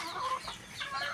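Hens clucking close by, a busy overlapping chatter of soft clucks with no talking.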